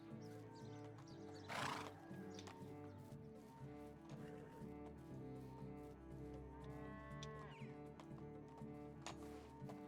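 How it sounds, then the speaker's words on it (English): Horses in the Medieval Dynasty village stable neigh and whinny while hooves clip-clop steadily, with cattle lowing faintly in the background and one louder burst early on. "I have 4 horses."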